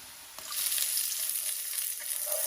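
Garlic and two green chillies hit a hot pan for a dried-fish bhaji. A quieter start jumps into a loud, continuous, close-up sizzle, with stirring underneath and no voices.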